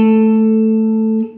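Guitar from a song lesson plays the opening melody as a single sustained, ringing chord-like tone, clear and close, fading slightly near the end with no talking.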